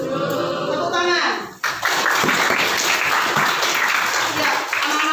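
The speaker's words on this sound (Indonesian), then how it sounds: "Tepuk tangan." Children in a classroom burst into a dense round of applause after an adult voice speaks, the clapping loud, close and sustained to the end.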